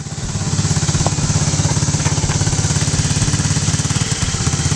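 A TAO pit bike's small single-cylinder engine idles close by, running loud and steady with a fast, even, chugging putter and no voices over it.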